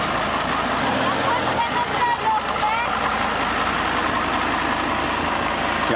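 A rare VW Touareg V10 TDI diesel SUV rumbles on continuously with a deep, industrial-sounding drone, heard steady and fairly loud for the whole stretch.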